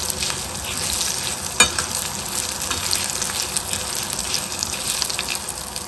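Byadgi chillies and spices roast in a pan for sambar, giving a steady close sizzle and crackle with occasional scraping stirs, no voices.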